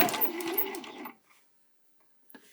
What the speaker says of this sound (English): I'm going to sew over my strap and then reverse